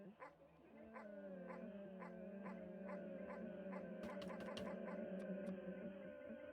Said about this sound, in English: Oh, it barks at me.